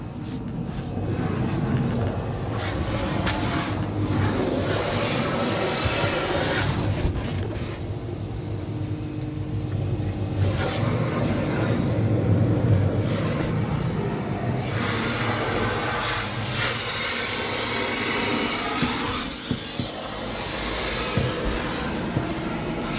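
A garden hose sprays water steadily over the trunk of a Renault Megane 4 while checking for leaks, a continuous close hiss and splash with small shifts in intensity.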